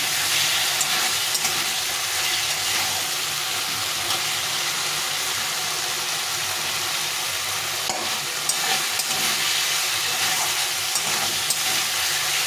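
Tomato and potato with spices are stirred and sautéed in a pan for fish curry, giving a steady close sizzle with occasional scraping and stirring sounds throughout, no talking.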